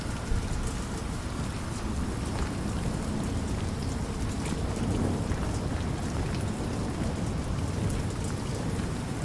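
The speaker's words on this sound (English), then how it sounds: "as I look up, the rain hits the visor" Steady, dense rain patters against a helmet visor in the video game Variant, a continuous close hiss with no voices over it.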